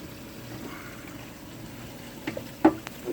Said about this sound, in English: Get some of the water out of it.